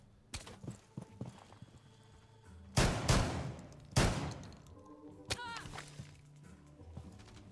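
Gunfire and impacts in a ranked match of the video game Rainbow Six Siege: a few sharp loud bursts amid scattered footsteps and clatter, with two strong blasts close together in the middle.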